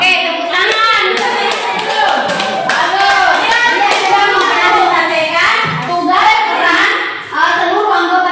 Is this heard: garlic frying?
no